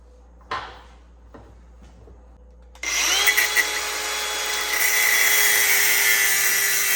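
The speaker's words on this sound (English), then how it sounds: "So I'm going to take the grinder and cutoff wheel and we'll go that route." A few sparse clanks and knocks, then an angle grinder with a cutoff wheel spins up into a loud, steady, high-pitched whine as it cuts a stubborn bearing race off a Dana 30 axle pinion.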